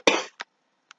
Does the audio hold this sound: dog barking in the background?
no